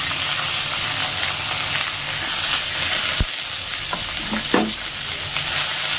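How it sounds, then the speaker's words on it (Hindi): Carrots and capsicum stir-fry with garlic and chilli in a hot pan, a loud continuous sizzle broken by a sharp knock and a couple of spatula scrapes toward the end, close by, with nobody talking. "अब यहीं पर शिमला मिर्च और गाजर दोनों को डाल देंगे।"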